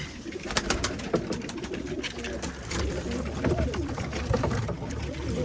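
Pigeons coo steadily in a coop in low, throaty murmurs amid wing flutters and scattered rustling, several birds close together.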